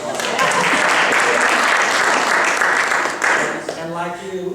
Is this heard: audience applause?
yes